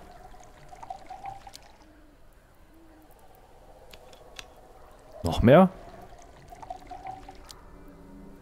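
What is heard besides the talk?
filling a water bottle in the video game Desolate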